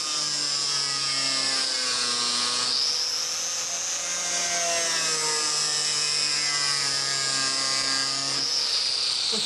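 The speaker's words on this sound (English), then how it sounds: "we can cut that with the mini grinder" Mini grinder cutting through a metal tube, a loud, continuous high whine with shifting pitch as the disc bites and slows, steady and close throughout.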